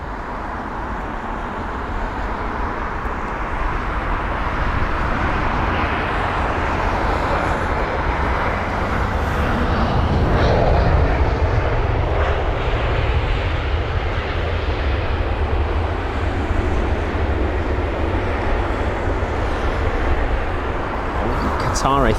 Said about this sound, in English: It is a BA A320 with the nose right the way up.